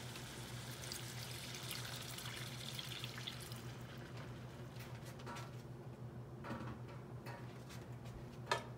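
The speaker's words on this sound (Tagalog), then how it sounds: "Then I put water." Water is poured into a cooking pot for seafood sotanghon, a steady splashing gush that fades after a few seconds, followed by scattered light drips and small clinks, quiet and close.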